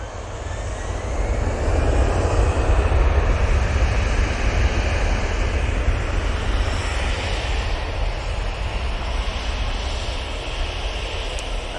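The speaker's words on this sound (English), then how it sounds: "That Easyjet is now on the roll." An EasyJet airliner on its takeoff roll at Manchester Airport, engines roaring loud and steady with a broad rushing wash that holds throughout, no voices over it.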